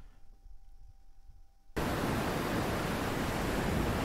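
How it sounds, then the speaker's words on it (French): After a quiet, faintly humming lead-in, a dense roar of rushing water switches on abruptly and holds steady and loud, like a waterfall or torrent sound effect, with no talking. "Ça, c'est la voix de grandes eaux."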